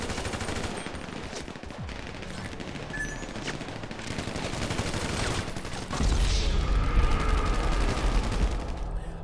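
Sustained automatic gunfire in a GTA 5 Online adversary mode, a dense, continuous rattle of shots that grows heavier and louder in the final seconds.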